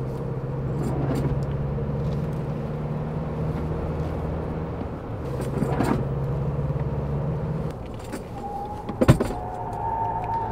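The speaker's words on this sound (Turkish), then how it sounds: "Şimdi Land Cruiser'ı böyle virajlı güzel bir dağ yolunda kullanıyoruz" A 2024 Toyota Land Cruiser Prado on all-terrain tyres drives a winding mountain road, a steady engine and road hum heard from inside the cabin with a few soft thumps and a brief clatter near the end.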